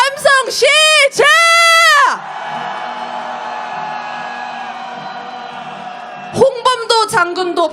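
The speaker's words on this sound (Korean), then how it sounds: "함성 시작!" A protest crowd on a candlelight march calling for impeachment in Korea roars in unison: loud, pitched shouts for about two seconds, then a sustained wash of cheering and noise, with voices surging again near the end.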